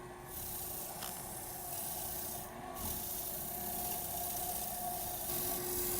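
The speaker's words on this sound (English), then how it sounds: "Got a little bit of Scotch-Brite here." A Scotch-Brite pad rubs over a freshly turned wooden bowl on the lathe, giving a steady, close scratchy rasp over a constant motor hum for about six seconds.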